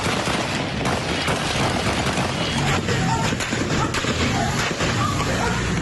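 Gunfire crackles during a night-time police shootout in Yaguachi, Ecuador, a loud, dense burst of rapid shots and sharp cracks over a constant roar, with faint voices in the background.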